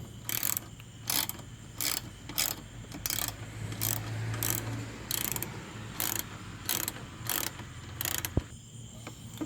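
A ratchet clicks in quick, evenly spaced bursts over a low steady hum as a metal shield is fastened into the front bumper of a Mazda Tribute during radiator work; the clicks are close but fairly quiet.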